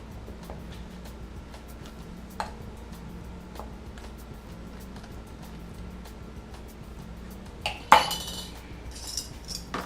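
A knife spreads mustard chimichurri over toasted bread for an Argentine choripán in a kitchen. The scraping is faint and steady, with a brief cutlery clink near the end and no talking.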